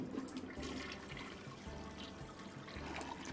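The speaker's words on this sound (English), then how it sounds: "Alright, so let's test our flush function." A toilet flush effect being tested in a video game under development: a steady rushing, gurgling water wash holding at even loudness for about three seconds, alone with no talk.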